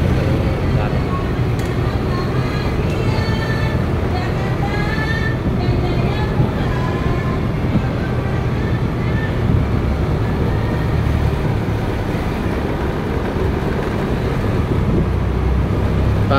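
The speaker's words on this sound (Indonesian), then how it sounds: "roda 2 teman-teman lancar melintasi jalan ini" A two-wheeled motorcycle rolling along a rural transmigration road on a clear morning, its steady engine drone and road rumble continuous and fairly loud throughout, with faint wind noise and occasional voice-like tones over it.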